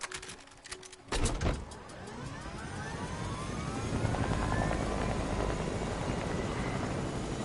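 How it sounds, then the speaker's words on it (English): A video-game helicopter spools up after a sharp click and thump, its rotor and engine rising into a loud, steady whir that keeps building as it flies, with no voices over it. "So the thing about helicopters is you want to stay low."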